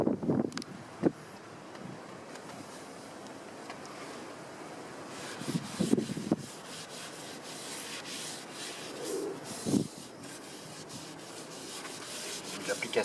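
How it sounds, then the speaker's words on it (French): Wheel protection product being rubbed onto a car rim by hand, a steady close scrubbing and wiping with a few louder strokes and faint background voices. "la petite démonstration faite par Sylvain, comment appliquer notre produit professionnel, le Detailing Protect Jante"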